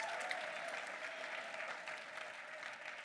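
A church congregation applauds to acclaim the Lord, a steady, even wash of clapping from many hands throughout, moderately distant.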